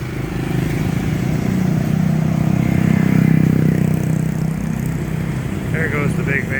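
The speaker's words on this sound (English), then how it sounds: "There goes the big van, passing car and 2 motorbikes at one time." Traffic on a crowded road in the Philippines: a big van, a car and two motorbikes pass close by, engines swelling to a loud rumble and easing off, with a voice talking near the end.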